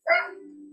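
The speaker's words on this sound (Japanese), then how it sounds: "ワンちゃんの鳴き声も聞こえますが" A single dog gives one sharp, fairly close bark whose sound trails off into a lingering tonal whine, heard on its own without any talking.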